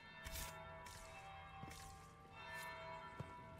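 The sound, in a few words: bell ringing in the video game Dragon Age Inquisition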